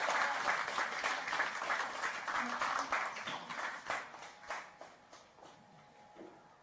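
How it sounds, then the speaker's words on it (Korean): At a live televised panel debate, a studio audience claps to welcome a panelist. The applause starts full and busy, then thins into scattered claps that trail off toward the end. "박수로 맞이해 주세요."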